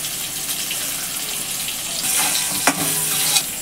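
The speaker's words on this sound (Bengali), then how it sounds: "ওই তেলের মধ্যে একটু কালো জিরে ফোড়ন দিয়ে দিল, 2টো কাঁচা লঙ্কা দিয়ে দিল" Nigella seeds and two green chillies spluttering in hot oil for potol posto, a dense crackling sizzle that grows louder midway, with a sharp utensil clink near the end and no talk.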